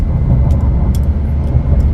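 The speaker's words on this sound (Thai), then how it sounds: "เสียงเครื่องยนต์ไม่เคกนะครับ" A loud Isuzu D-Max 1.9 diesel pickup engine roars close by in a brief, sustained rev, deep and throaty with a few sharp clicks on top.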